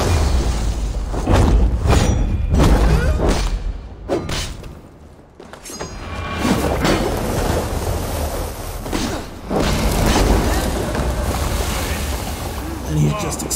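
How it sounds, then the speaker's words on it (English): Explosions go off in the video game Dawn of Ragnarok. Heavy booms and thuds roll in repeatedly over a dense, noisy battle background, with a brief lull partway through. "And he's just exploding all over the place."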